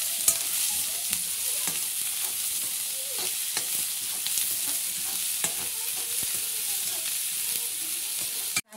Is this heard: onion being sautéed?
yes